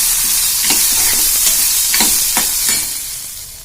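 Food sautés in a pan, a loud close sizzle marked by several scraping stirs that fade toward the end, no voices present.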